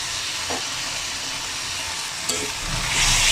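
Vegetable masala with a spoonful of soy sauce fries in hot oil, giving a steady, close sizzling hiss with a brief stir or clink midway and a louder surge of frying near the end.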